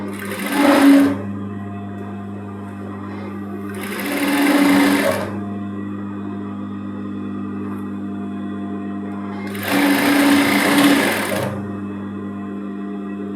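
A sewing machine stitches a shirt seam in three separate bursts, each a buzzing whir of a second or two, with a steady low hum between runs.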